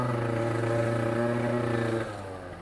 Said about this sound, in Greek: Ελπίζω να με ακούτε γιατί κάνει αρκετή φασαρία το μηχανάκι.